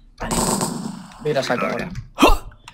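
Desert Eagle pistol shots in a Cops and Crims video game, several sharp bursts that overlap excited talk from players.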